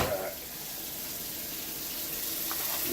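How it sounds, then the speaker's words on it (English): Cold tap water runs steadily over a slab of home-cured bacon under a kitchen faucet, a continuous close hiss and splash with no talking. "So just going to give it a quick rinse here. Cold water."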